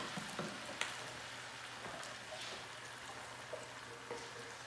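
Onions and tomato sautéing in a pan, a steady soft sizzle and crackle with scattered small pops throughout, fairly close but quiet, with no talking.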